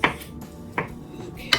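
A few sharp knife chops through smoked brisket on a cutting board, spaced unevenly, close by, over a low background hum.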